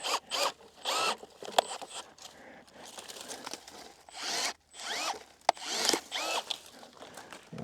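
Overgrown tree branches being cut back by hand, a series of short rustling snips and scratchy bursts of leaves and twigs, close and irregular, with brief pauses between cuts and no talking.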